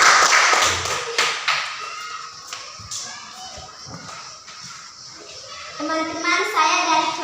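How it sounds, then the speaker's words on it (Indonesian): A classroom group gives scattered, fairly quiet hand claps for a presenting student group, with taps and light thuds mixed with children's voices that continue toward the end. "Tepuk tangan untuk kelompok 3"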